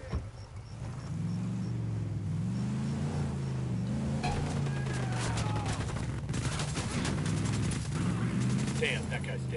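Rapid bursts of video game gunfire crackle through a continuous engine-like drone, loud and sustained, with players talking over it.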